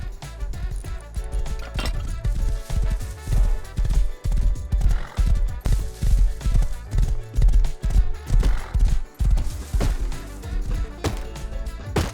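Horse galloping in the video game Rust, rhythmic clip-clop hoofbeats pounding in quick repeated bursts, close and loud, with a neigh or whinny mixed in.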